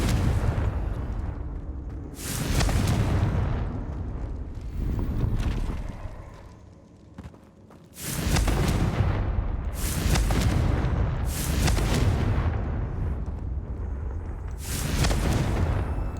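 Fiery Confringo spell blasts in a Harry Potter wizardry video game, several loud booming explosions bursting one after another with rumbling tails and short lulls between them.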